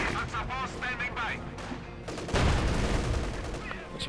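Battle sounds from the World War II strategy game Company of Heroes 2: rapid gunfire and German Granatenwerfer mortars firing, a dense, loud crackle of shots with heavier thumps and a bigger burst partway through, with a commentator's voice over it.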